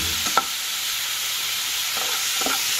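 Vegetables fry in a pan for a chicken stew, giving a close, steady sizzle. A few soft knocks from stirring break through it, and no one speaks.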